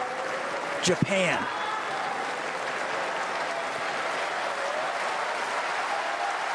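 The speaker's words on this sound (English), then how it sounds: "And now the crowd gets into it." A crowd applauds steadily at a wheelchair tennis women's doubles gold medal match between the Netherlands and Japan, a broad, even wash of clapping. A commentator's voice briefly cuts in near the start.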